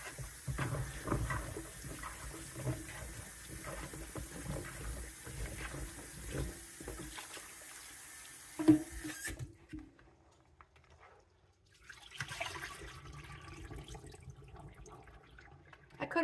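Tap water running and splashing over freshly cut potatoes for french fries in a kitchen, a steady soft rinsing patter that stops for a few seconds, then resumes more faintly.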